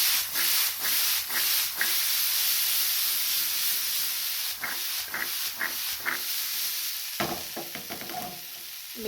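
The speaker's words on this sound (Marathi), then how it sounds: "मिक्स करून घ्या थोडंसं आणखीन" A spoon stirs and scrapes a ghee-enriched dish in a pan after it has steamed covered on low flame, making repeated rubbing strokes over a steady soft sizzle, with no talking.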